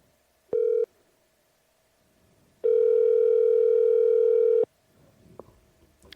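A telephone call is placed and rings out: a short steady tone, a pause, then a longer sustained ringback tone. It ends with faint clicks and handling noise, all close and clear.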